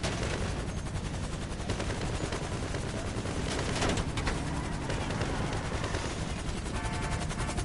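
Gunfire at a military base in GTA 5 Online, dense rapid bursts crackling nonstop like a mounted machine gun, loud and continuous with a voice faintly underneath.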